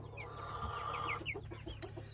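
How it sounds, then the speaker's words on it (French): Young hens in an enclosure cluck and chatter softly nearby, with several short calls overlapping above a low steady background hum. "Ce sont pour la plupart des poulettes dans cet enclos."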